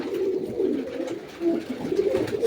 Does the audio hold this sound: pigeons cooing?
yes